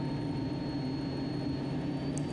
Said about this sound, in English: I go full power so they can hear the engine rumble.